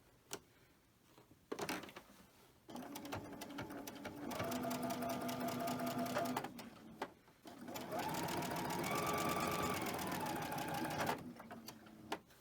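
A sewing machine stitches cotton pieces in bursts, its fast rhythmic whir starting and stopping several times. The longer runs are steady and close, with brief pauses and a quiet room between them.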